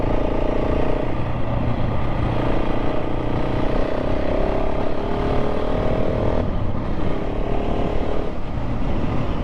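A KTM 690 SMC-R motorcycle is ridden on a bumpy tree-lined road, giving a loud, continuous engine drone mixed with wind rush and a slight change in pitch near the end.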